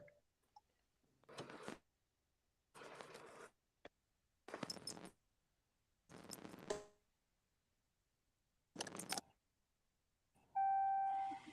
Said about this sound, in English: Oh, I heard door chimes.